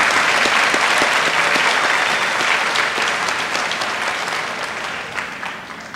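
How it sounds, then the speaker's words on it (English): A school awards-day audience applauds perfect attendance award winners with loud, sustained clapping from a large crowd that slowly tapers off. "let's give all of our perfect attendance award winners a round of applause once again"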